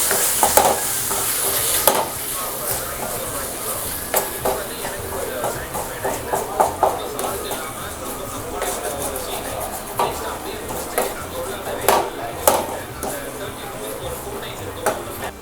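Masala being stirred in a pan for pepper chicken, with repeated scraping strokes and clinks of a spoon against the pan over a steady sizzle, up close.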